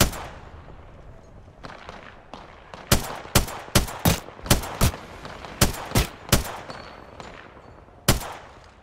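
Gunfire from the battle royale game Apex Legends: a string of sharp, loud shots, some in quick pairs and others spaced apart, ringing out over quieter background game noise with no talking.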